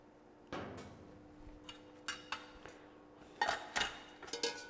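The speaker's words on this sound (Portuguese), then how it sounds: "Eu vou, então, pegar aqui numa panela." A cooking pot is taken out in a kitchen, with a string of sharp, close metallic clanks and knocks spaced irregularly over quiet room tone, without speech.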